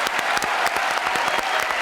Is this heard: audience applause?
yes